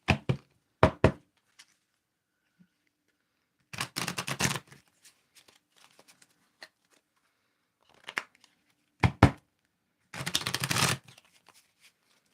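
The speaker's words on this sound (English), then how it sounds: "All right, I'm going to shuffle it" A deck of playing cards is shuffled in several short riffling bursts separated by quiet gaps, with a few sharp taps and clicks between them; close and crisp, with nobody speaking.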